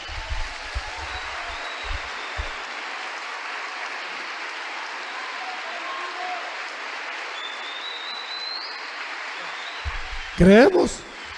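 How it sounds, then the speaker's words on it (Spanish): Sustained congregation applause in a church, a steady wash of many hands clapping for about ten seconds with a few low thumps early on, then a voice breaks in near the end. "Un aplauso."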